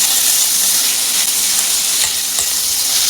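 Chopped onion fries in a hot pan while being stirred, a loud, dense, continuous sizzle with faint scraping underneath, close up and with no voices.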